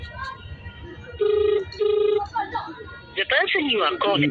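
A phone call rings out unanswered with two long electronic ring pulses, followed by a burst of distorted, warbling audio over a telephone line, with speech in the background.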